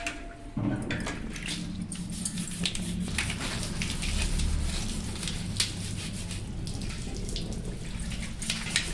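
Hot water pours and splashes over a kitchen chimney plate being cleaned, a continuous close gush with wet squishing and dripping in a sink, and no voices.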